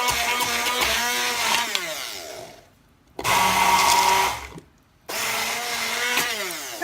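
Makeshift blender whirring through a batch of pesto in a home kitchen, loud buzzing motor running in three bursts separated by brief pauses, no voices.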